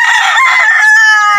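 An old rooster named Ugis, with sharp spurs, gives a single loud, close crow that holds steady and then trails off, with nothing else behind it.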